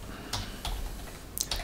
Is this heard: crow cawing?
no